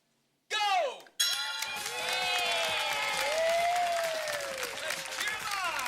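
An audience roars and cheers on contestants at a cooking competition, first a brief loud burst and then a sustained, dense wash of crowd noise with shouts rising above it.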